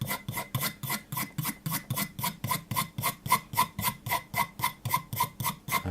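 A blade or scraper rasps varnish off the handle of a Hultafors Agdor axe in steady, even back-and-forth strokes, about three per second, close and clear with no talking.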